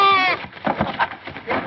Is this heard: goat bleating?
yes